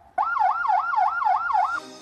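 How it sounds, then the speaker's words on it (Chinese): A police car siren on an expressway clears traffic ahead of a patient, giving loud, close, rapid wailing cycles that rise and fall about six times before cutting off sharply. "拉响警报，在前面开路"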